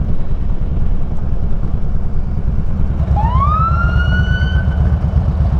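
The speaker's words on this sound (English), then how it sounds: "Police sirens." Police car siren starting up partway through on a Chicago street in the morning, one rising wail over loud, steady traffic rumble.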